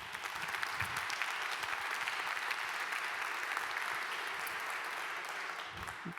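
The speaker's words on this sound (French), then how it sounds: "Monsieur Bernard Lachaud, sous vos applaudissements" An audience at an economic conference on the Covid-19 recovery applauds a speaker, dense, sustained clapping from many hands filling the room at an even level throughout, with no talk over it.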